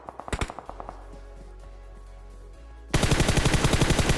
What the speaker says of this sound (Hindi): लेफ्ट साइड से जो फायरिंग की साउंड आ रही थी ना, वो अलग ही लेवल की थी